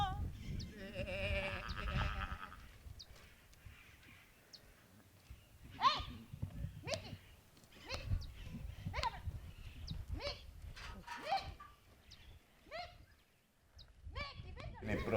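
Goats bleat repeatedly, with short wavering cries scattered at irregular intervals, fairly near but modest in level, as people speak at times in the background.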